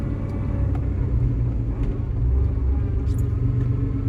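A 35-year-old Chevy pickup truck engine rumbles low and steady from inside the cab, with a constant drone and faint mechanical whine from the transmission, no voices.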